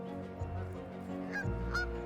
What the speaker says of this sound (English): Look at all these Canada geese disappearing into the sunset.